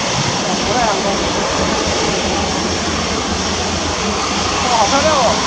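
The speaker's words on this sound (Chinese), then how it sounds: "直接来降落，直接来降落。 降落降落。" A Cathay Pacific airliner comes in to land at Taoyuan Airport, a loud, broad, continuous jet roar heard up close for several seconds, with faint background voices.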